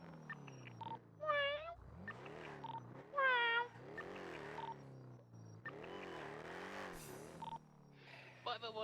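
A person imitates a cat's meow in a roleplay game session, several drawn-out vocal meows and chirps mixed with other voices and faint car engine sounds in the background.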